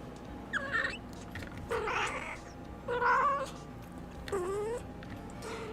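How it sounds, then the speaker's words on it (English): A house cat meows near the microphone, four drawn-out, wavering calls spaced about a second apart, heard over a low, steady background hum. "I need to put my cat away."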